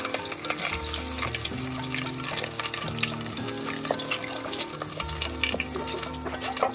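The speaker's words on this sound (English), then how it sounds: "the mustard seeds are spluttering" Mustard seeds, curry leaves and dried green chilies frying in hot oil for a Kerala-style kadala curry: a steady, close crackling sizzle with spluttering pops and stirring, and no talking.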